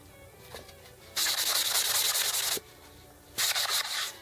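Two bursts of brisk rubbing with an ultrafine abrasive pad over a finished surface, each a loud, rhythmic scratchy hiss lasting about a second or more, separated by a quiet pause.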